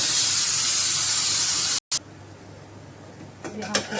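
A pressure cooker holding cooked dal and vegetables lets out a loud, steady hiss of steam as it is opened, then cuts off abruptly and leaves only faint clinks and soft rustling.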